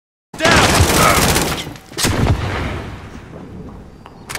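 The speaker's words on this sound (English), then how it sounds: "precision airstrike on the way." Precision airstrike explosions in Call of Duty, heavy booming blasts that roll on for seconds, followed by a second burst, loud and close with game noise around them.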